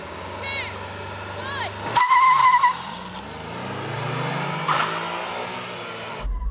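A Suzuki Jimny and a Honda S660 launch side by side in a drag race, their small engines revving up with rising pitch over about four seconds, plus a brief tire squeal near the start.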